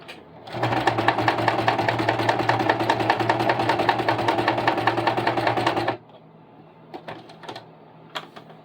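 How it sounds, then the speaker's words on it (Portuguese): A sewing machine stitches stretched elastic onto fabric for a cloth doll, a loud close continuous rapid whirring chatter for about five seconds, then it stops and a few faint clicks follow. "já estiquei o meu elástico e agora é só começar a costura"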